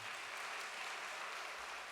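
An audience keeps up a brief, even round of applause at a welcoming address, a soft, continuous patter of many hands with nothing else heard.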